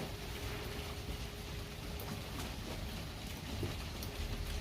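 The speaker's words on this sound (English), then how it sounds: "if it wasn't raining, would you have done a bigger display with rockets, Marco?" Rain falls on New Year's Eve in a back garden, a soft, steady hiss of drops on surfaces, faint and continuous with no voices.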